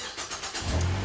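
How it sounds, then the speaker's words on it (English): A Ford Fusion's engine cranks and catches near the end, rising into a low steady rumble from close by, with no talking. "If I start the car"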